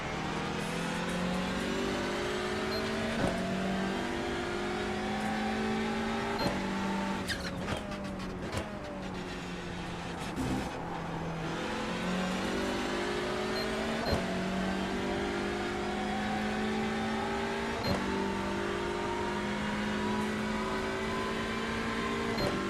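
A race car at Daytona builds from a distance, its engine note rising in pitch as it approaches and roars closer, with the whine of other running cars behind it.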